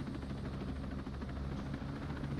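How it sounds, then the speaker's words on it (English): Helicopter rotor and engine drone continuously and fairly loud as the aircraft sets down in the Ghost Recon Breakpoint game, a steady rumble with faint rhythmic blade chop. "Put down our helicopter right here and use our drone."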